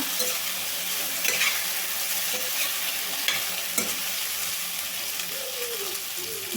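Slices of raw banana fry in oil and are stirred gently in a pan. A steady bright sizzle runs throughout, broken by occasional scraping and turning strokes of the spatula, with no voices.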